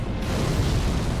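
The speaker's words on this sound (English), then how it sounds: "Fire breath." A dragon's fire breath attack in Dark Souls 3, a dense, loud roaring rush of flame that holds steady through a brief moment.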